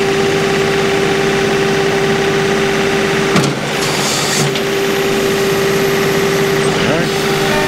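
A compact tractor's engine runs at a steady 2000 RPM, a loud, constant droning hum with a strong tonal whine, briefly interrupted by a clunk midway, with someone talking over it.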